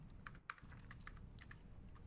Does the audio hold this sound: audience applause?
no